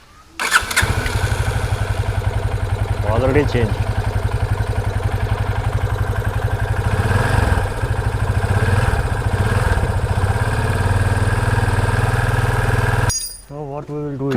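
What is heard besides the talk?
Yamaha FZ25 motorcycle engine running after filter change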